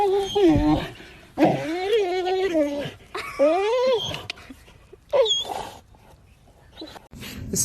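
A puppy whimpers and yips in a run of high, wavering cries and short squeaks, close and fairly loud, separated by brief quiet gaps, with no talk over it.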